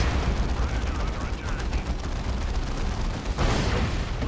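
In the real-time strategy game Dawn of War II: Chaos Rising, a laser cannon fires amid the battle din of dense, rumbling blasts and crackling impacts, with a sharp louder burst near the end and some talk underneath.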